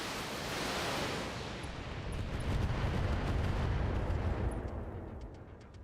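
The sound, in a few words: missiles launched by a mech in the BattleTech video game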